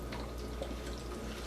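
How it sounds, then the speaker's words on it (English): Water poured into seed-starting soil makes a light, continuous trickle with faint drips, close by and soft over a steady background hum, with no talking. "So I'm just pouring some water in here and then I'm going to mix everything up."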